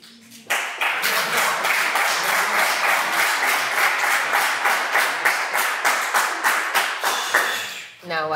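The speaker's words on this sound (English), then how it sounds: "Now, why did you guys clap?" An audience at a student photojournalism presentation claps in a loose, rhythmic pattern, loud and close, starting abruptly and running several seconds before tapering off, with brief speech at the end.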